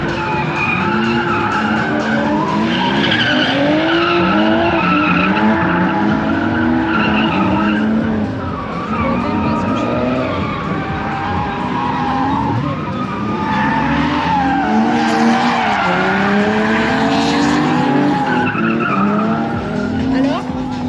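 A race car on Bridgestone 225 tyres skids and squeals continuously at close range, a loud sustained screech with wavering engine revs throughout, the tyre noise rising and falling as the car slides.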